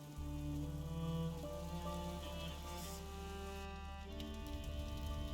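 Steady rain falls in the video game A Plague Tale: Innocence, a continuous hiss under tonal game music and ambience, fairly loud and unbroken throughout.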